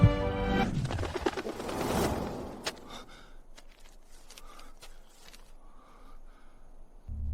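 A carrier pigeon coos in a dubbed Chinese sword-fighting drama, with soft repeated cooing and rustling that fades into a quieter stretch with faint bird sounds.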